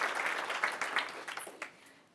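Wedding guests give a round of applause, a burst of many hands clapping that thins out and fades to quiet within about two seconds.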